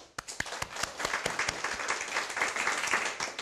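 A church congregation at a Bible lecture gives a round of applause, sparse claps at first swelling into steady, moderately distant clapping that continues throughout.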